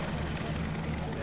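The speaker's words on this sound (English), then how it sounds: "the helicopter is capable of sideways flight, backward flight." A CH-146 Griffon military helicopter's steady rotor drone and engine hum fill a brief moment at an airshow demo, loud and continuous.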